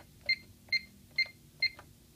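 An alarm system keypad gives four short, clean electronic beeps at an even pace as a code is entered, quiet and close in a hushed room.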